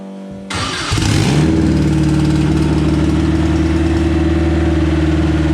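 A race car engine fires on its first start-up after a roll cage upgrade: a sudden loud crank catches within a second, then settles into a steady, rough, close idle that drones on alone.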